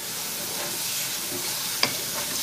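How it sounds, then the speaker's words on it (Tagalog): Garlic sautéing in butter in a pan while crab is being cooked, a steady soft sizzle and hiss with one small pop, close by and alone without talk. "Ayan, sa mga oras na ito, tayo nagigisa ng bawang. Ginisa natin siya sa butter."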